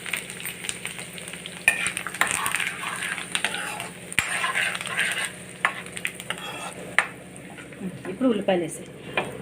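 Onions frying in a pan for mutton curry, crackling sizzle with frequent metal stirring clatters and scrapes against the pan, with a voice speaking intermittently.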